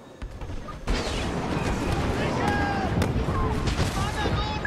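In a Star Wars Battlefront match, an AT-AT walker's heavy cannon fire booms over a rumbling battlefield din with blaster zaps and explosions, loud and sustained, while someone talks in German.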